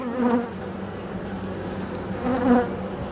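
A dense, steady buzz of many honeybees close up inside a crowded hive with a strong colony, swelling slightly louder twice, with no voices.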